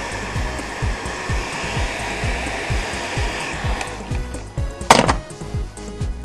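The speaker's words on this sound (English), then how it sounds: "I'm going to take this heat gun and I'm going to heat that shrink tubing up" A heat gun blows a steady, close airy whoosh while shrinking tubing over wire terminals, holding constant for several seconds and then shifting with a brief clunk near the end, with no talking.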